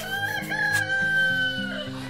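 A rooster crows once, close and loud, a long drawn-out call over the low clucking of chickens in a coop.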